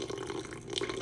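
Tepid warm water runs steadily from a tap for sourdough, a brief close continuous splashing stream.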